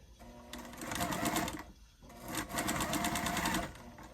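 Two bursts of steady sewing machine stitching on quilt blocks, a fast, even whirring hum separated by a brief stop, close by and fairly quiet.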